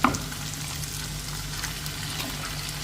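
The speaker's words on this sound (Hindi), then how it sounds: "तो इसका कलर चेंज होने तक हम इसे भूनते हैं।" Mutton frying in a pan with ginger garlic paste makes a continuous close sizzle and crackle, with a faint clatter at the start and light stirring under it.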